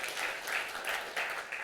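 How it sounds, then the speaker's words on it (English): An audience applauding conference organizers at a machine learning event, steady crowd clapping throughout, moderately loud and alone. "could we give a round of applause to the conference organizers?"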